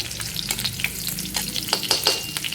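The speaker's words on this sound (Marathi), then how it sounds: "थोडंसं आपण हे मिरची परतून घेऊया म्हणजे मऊ होईल थोडंसं।" Green chillies sauté in oil in a pan for a rava meduvada recipe, giving a soft continuous sizzle broken by sharp stirring clicks and scrapes, close and fairly quiet.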